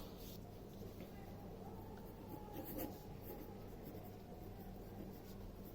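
A pen scratches steadily across paper during a maths lesson, soft and close, with continuous faint strokes over a quiet room.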